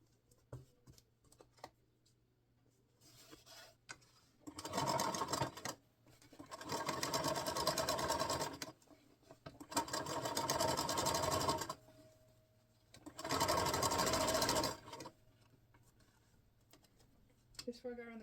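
A sewing machine stitches cushion piping in several bursts of rapid, steady mechanical whirring, separated by brief pauses, close and clear.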